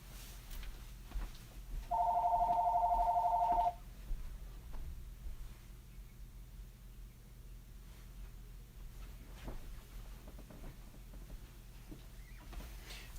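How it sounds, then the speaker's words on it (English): A landline home telephone rings once, a short electronic trill of about two seconds, moderately loud in a quiet room with faint background hum and occasional soft knocks afterward. "I don't really answer my home phone."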